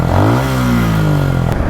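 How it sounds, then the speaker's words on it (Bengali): A Suzuki Gixxer motorcycle engine drones loud and close while the bike is ridden at around 90–100 km/h, a continuous buzzing whine that dips slightly in pitch and then holds steady. "ইঞ্জিনের সাউন্ডটা একটু শোনাই যে কেমন আছে"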